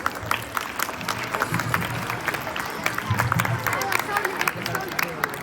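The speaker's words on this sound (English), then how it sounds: "So big round of applause for these students." An audience at a school constitution-awareness event claps for student presenters, a dense patter of applause mixed with crowd murmur and voices throughout.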